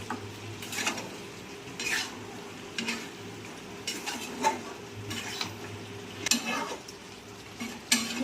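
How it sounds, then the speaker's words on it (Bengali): Mutton kosha being stirred in a pan with a little water added, giving scattered scraping and clinking of a spoon against the metal over a soft sizzle, with several sharper knocks spread through the stretch. "একটু জল দিলাম, শুকিয়ে গেছে। এটা মিশিয়ে নিয়ে তারপরে ঢাকা দেবো।"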